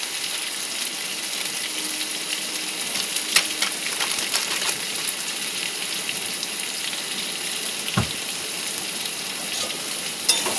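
Potatoes frying in a pan give off a steady sizzle throughout, with a brief knock partway through and faint clinks, all without talk.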